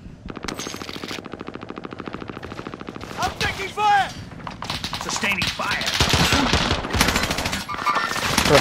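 Rapid automatic gunfire and scattered shots in Call of Duty: Modern Warfare, loud and sustained through the whole stretch, with bursts overlapping and voices calling out intermittently over the shooting.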